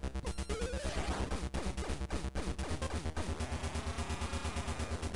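Dense, chaotic burst of electronic game sound from Zelda: Link's Awakening as a boss is defeated, layered crashes and sweeping tones over a steady pulsing low buzz, loud and continuous throughout.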